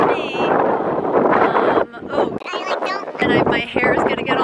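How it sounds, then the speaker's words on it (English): Strong gusts of wind buffet the microphone on a downtown Buffalo street, loud and rumbling in surges with brief lulls, while people talk through it. "It's gonna be Main Street windy. Terrible. You guys are not gonna be able to hear me."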